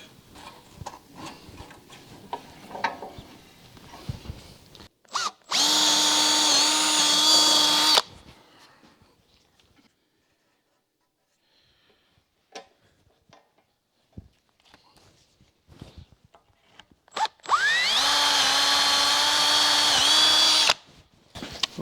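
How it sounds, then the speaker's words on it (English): A power drill bores through a car door panel during rust repair work, running in two loud, sustained bursts of a few seconds each, separated by a long near-silent gap with faint handling clatter. "we could actually just drill through the door panel here"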